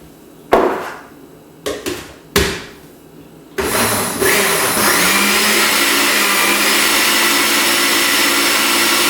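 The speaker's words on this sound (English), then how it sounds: "I'm gonna put this in the food processor and just pulse it for a little bit" A food processor purees avocado soup, running loud and steady for several seconds after a few short bumps and knocks as it is loaded and switched on.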